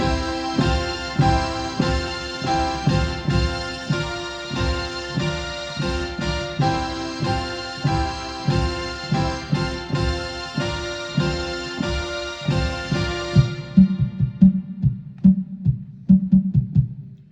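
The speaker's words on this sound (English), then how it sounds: "an Oberheim, and a Jupiter mixed together to create sort of that big song sound" Thick, layered analog synthesizer chords from an Oberheim and a Jupiter mixed together pulse rhythmically over a driving beat, loud and full, then the sound thins out into a sparse ringing tail.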